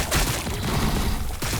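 Dense, loud battle gunfire from Warhammer 40,000: Battlesector, a T'au army firing on Tyranids, with overlapping rapid shots forming a continuous fusillade and a final burst near the end.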